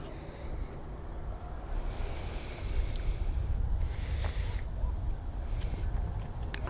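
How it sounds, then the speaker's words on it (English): Wind blows outdoors, a rough, rumbling gusty roar buffeting the microphone, swelling in strength over a few seconds. "Wind's picking up."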